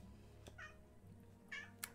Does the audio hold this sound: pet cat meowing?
yes